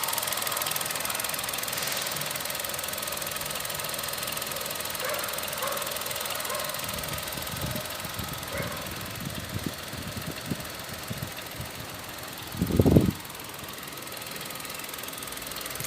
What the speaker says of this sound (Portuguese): barulho de funcionamento do motor.